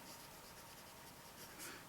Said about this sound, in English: let's go ahead and put nib to paper